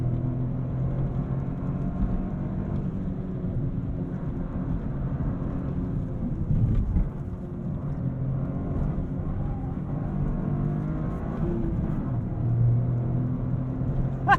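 A manual hot hatch driven hard through corners gives a continuous low engine drone and road rumble heard from inside the cabin, steady and fairly loud, with no talk.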